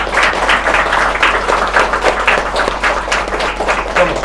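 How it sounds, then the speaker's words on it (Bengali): An audience at the opening of the Kakdwip Music Academy claps steadily and loudly, a dense, continuous patter of many hands, close and unbroken throughout. "চলতে থাকবে হাততালিটা"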